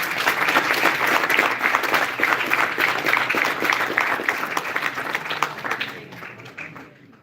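Applause breaks out for the poster competition winner at a GIS Day event, a full, steady crowd clapping that stays loud for several seconds before tapering away at the end.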